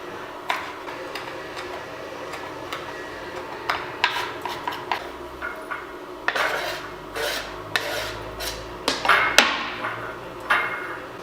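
Chilies being finely chopped on a board for a chilli chickpea salad, a run of quick, close, irregular knife taps and clatters with a few louder knocks, no talking.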